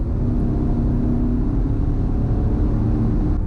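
A 2020 Ford Explorer ST, a 400 hp 4WD SUV, drones steadily on the move with a constant low engine rumble and road noise. The sound stays loud and even throughout, with no voices.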